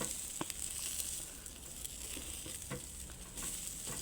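Food fries in a pan, giving a steady, fairly quiet sizzle with scattered faint pops and occasional stirring clicks, heard close with no talk.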